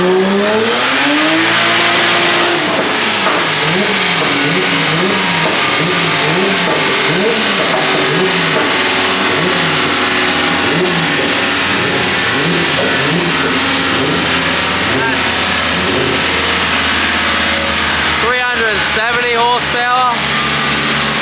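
A Nissan S15 pro drift car's engine revs hard and steadily at high volume while the rear tires spin, a loud sustained roar with rising and falling pitch, then a few sharp bursts near the end.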